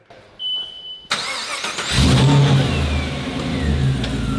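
A supercharged V8 car engine cranks and fires up, then revs hard and settles into a loud, steady roar close by, with no talking.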